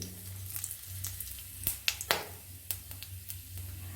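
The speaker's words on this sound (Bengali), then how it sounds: "ওই তেলের মধ্যেই আমি এবার গোটা গরম মশলা ফোড়ন দিয়ে দিলাম" Whole garam masala, cumin seeds and a little kasuri methi tempering in hot oil for a Bengali mixed dal, a steady soft sizzle broken by a handful of sharp crackles and pops.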